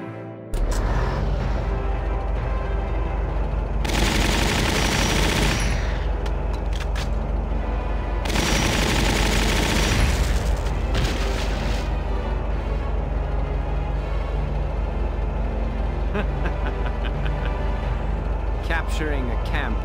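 Soldiers firing guns in a Valkyria Chronicles battle: dense bursts of gunfire and roaring blasts in two loud stretches, with steady combat noise throughout.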